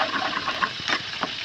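Water is poured into a pot of Filipino mung bean stew holding tomato, onion and ginger, a splashing, gushing fill with a few brief surges.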